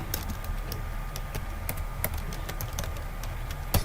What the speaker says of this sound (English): then type in easy adsense